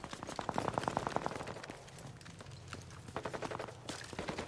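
Rapid bursts of heavy gunfire from a very loud gun in the shooter game Enlisted, dense and close, with a clattering automatic rhythm that pauses briefly and then resumes.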